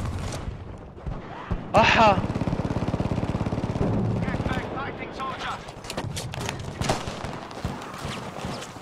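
Rapid bursts of automatic gunfire in Battlefield V, a sustained close rattle of shots with sharp cracks before and after, heard under a player talking excitedly.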